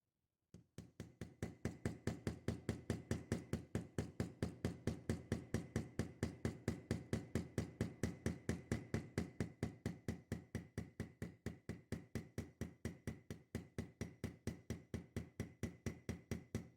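A hammer with a clean face peening a metal pin while a knife blade is replaced, struck in a fast, even, continuous run of sharp metallic taps for many seconds, close and steady.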